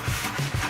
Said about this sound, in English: so this is just kind of a touch-up sand